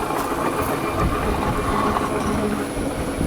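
A 28-inch Ohio Machine Tool Company heavy metal shaper, back gear engaged, cuts a railroad track plate flat, giving a steady, loud mechanical rumble and grinding clatter that runs throughout with no talking.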